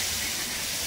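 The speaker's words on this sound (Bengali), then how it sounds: "ওই দেখো মাটন সিদ্ধ হচ্ছে।" Mutton boils in a pot on a home kitchen stove, a steady, loud hissing and bubbling roar that stays constant throughout without pauses.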